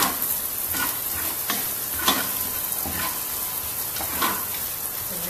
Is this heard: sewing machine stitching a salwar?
no